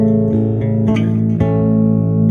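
Bass guitar playing a slow phrase of Silent Night as a Christmas solo, sustained notes ringing in a clear sequence of plucked attacks, close and steady with no voices.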